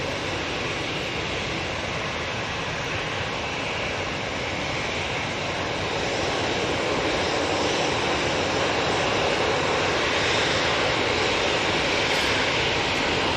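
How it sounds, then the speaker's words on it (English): An EasyJet airliner's engines at Manchester Airport, a broad continuous roar that builds slightly over time, heard from a distance without any talk. "got the EasyJet that's just come on"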